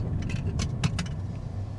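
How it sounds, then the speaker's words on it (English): A GoPro stand falls and clatters inside a 2022 Kia K5 GT, giving a few sharp rattling knocks over the low, steady hum of the car. "if you guys wonder what that sound was, that was my GoPro stand."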